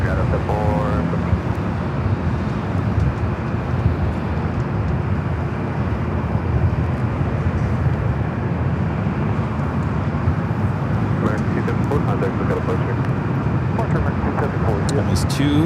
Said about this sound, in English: Cathay Cargo Queen arrivals here on the north side. She may fly directly over us, heading to the south side.